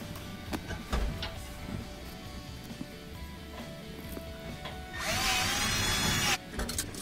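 A power drill with a driver bit drives screws into a gas oven in short bursts amid workshop clatter, with one longer, louder high-pitched run near the end.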